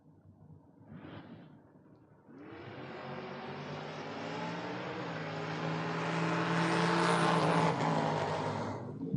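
Drag race car at a drag strip, first a brief faint burst, then a loud roaring run that builds steadily in intensity with rising engine pitch and stays strong to the end.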